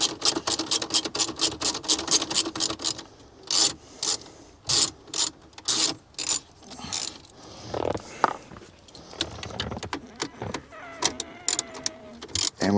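Ratchet turning out interior panel screws inside a 2012 Ford F350: rapid close clicking bursts at first, then irregular rubbing, clunks and scraping of panel parts, loud and near without speech.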